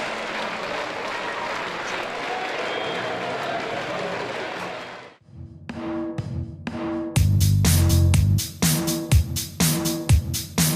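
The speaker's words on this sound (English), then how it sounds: "The Swans took the applause of their travelling support" Travelling Swansea football fans applaud their players in a stadium, a broad wash of clapping that fades out, then returns with loud, choppy bursts of noise.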